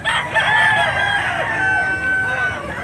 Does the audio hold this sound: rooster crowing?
yes